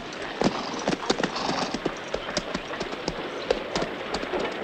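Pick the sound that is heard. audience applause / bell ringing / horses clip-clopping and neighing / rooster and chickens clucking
horses clip-clopping and neighing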